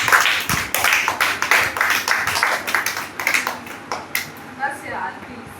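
Children in a classroom break into a round of clapping for a classmate, a dense burst of many hands that fades unevenly over several seconds, with voices mixed in.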